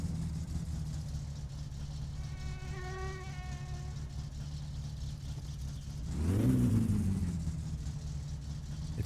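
A car engine in My Summer Car hums at idle, then revs up sharply with a rising whine for a moment before settling, close and alone with no talk.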